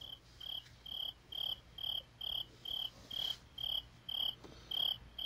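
Crickets chirping at night in a rapid, regular pulse, about a dozen evenly spaced bursts over a low background hum, with no voices.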